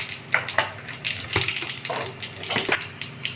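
Crackling, spitting sizzle of tempering spices frying in hot oil for paneer salna, with irregular popping bursts over a continuous hiss.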